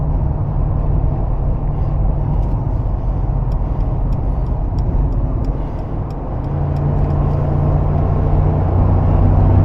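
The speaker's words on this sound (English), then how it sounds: "there's some wind noise, but you're gonna get some wind noise doing 78 or 80 on the interstate" A 2023 Mercedes G-Wagon 550 heard from inside at about 78 to 80 mph on the interstate: a steady, loud broadband rush of wind and road noise with a low engine drone underneath and no talking.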